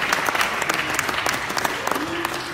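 A church congregation applauding in a loud burst of sharp, closely spaced claps, with a voice speaking over the clapping.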